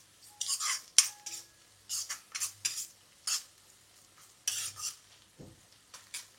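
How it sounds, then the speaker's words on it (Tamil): Onions and spices frying in oil in a home kitchen, sizzling faintly under repeated scraping strokes of a utensil stirring in a pan, close by. "இப்போது வெங்காயம் மற்ற ஸ்பைசஸ் எல்லாம் ஆட் பண்ணி எண்ணெயில் நம்ம மிக்ஸ் பண்ணிட்டு இருக்கிறோம்."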